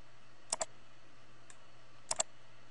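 Computer mouse clicks while working in Microsoft Publisher, two quick double clicks about a second and a half apart with a faint single tick between, close and crisp over a quiet room hum.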